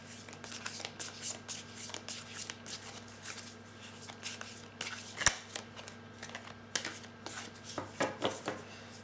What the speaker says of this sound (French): Je vais tirer d'autres cartes pour en savoir plus.